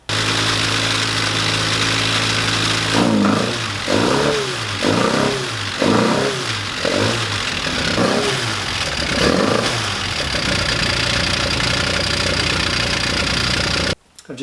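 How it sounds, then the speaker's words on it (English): A Mini's engine misfires while running on only its middle two cylinders, its loud ragged idle broken by a series of uneven lumpy revs and stumbles before settling back to a rough, steady drone. "It's running on the middle 2 cylinders regardless of what I do."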